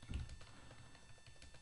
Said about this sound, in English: by typing price to book ratio into the field